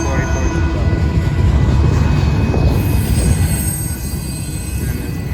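Freight train rolling past at close range, led by a Tier 4 locomotive, with loud continuous wheel and rail rumble and high squealing wheels throughout.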